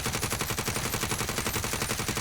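A QBZ assault rifle in the video game Warzone fires a rapid, continuous automatic burst, loud and close, with evenly spaced shots and no other sounds.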